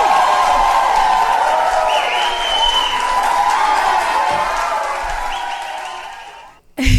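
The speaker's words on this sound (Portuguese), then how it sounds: "Palmas eternas" Sustained, loud audience applause with some cheering welcomes a guest onto a talk show about inclusive education, filling nearly the whole stretch before fading and cutting off near the end.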